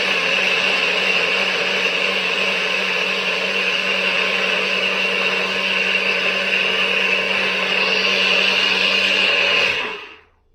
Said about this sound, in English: we got it in the NutriBullet now, guys. All blend up